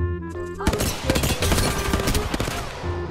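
Rapid bursts of automatic gunfire in the video game Apex Legends, loud and close, rattling in overlapping volleys for most of the clip after a brief tonal game sound at the start.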